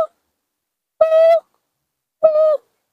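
Two clear, loud hooting calls from an owl-like bird being hunted, each a sustained tonal note about half a second long with rich harmonics, separated by a pause and heard alone with no other sound.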